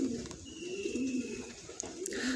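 A pigeon coos softly in its coop at night, a low steady murmur with a faint thin whistle and a few small knocks nearby.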